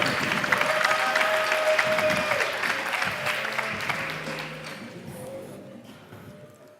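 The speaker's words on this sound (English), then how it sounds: "you must be cheering twice as loud for the next team" A crowd at a startup founders' pitch competition claps and cheers in a dense, lively wash of applause that gradually fades away.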